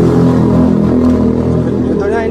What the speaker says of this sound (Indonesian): Nah, kita starter juga masih bisa nyala ya